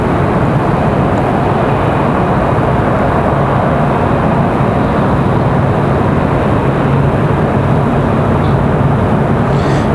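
An American Airlines Boeing 737 at Raleigh-Durham airport produces a steady, loud broadband roar that holds unbroken for the full length with no clear rise or fall.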